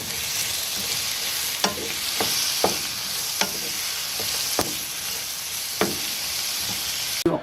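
Onion and tomatoes fry in hot oil in a pan, giving a steady broadband sizzle broken by several sharp stirring knocks and scrapes spread across the clip, with no voices.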